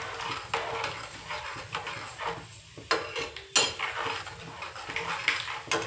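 Garlic roasts in a pan for a red chili pickle while a spoon stirs it, making repeated scraping and clinking strokes against the metal over a soft background sizzle.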